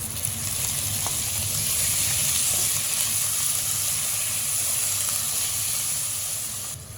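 Mutton mince frying with onion in a pan, a steady, even hiss and sizzle that holds for several seconds, with a couple of faint clicks, then eases slightly at the end.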